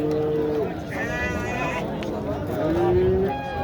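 A cow moos at a livestock market in Boysun, Surxondaryo, giving two drawn-out tonal calls, one at the start and one near the end, over steady crowd murmur and nearby voices.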